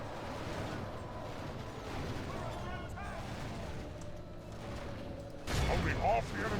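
Troops fire a volley in the Isengard mod of Bannerlord, a sudden loud burst of overlapping shots near the end that follows a stretch of low battle rumble and a voice speaking.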